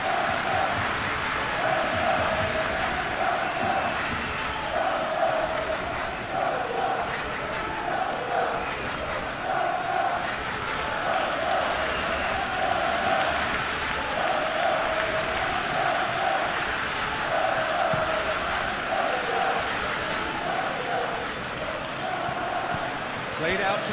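Stadium crowd noise in a PES 21 football video game during a Barcelona versus Atletico Madrid La Liga match, a steady roar with swelling cheers running beneath continuous match commentary.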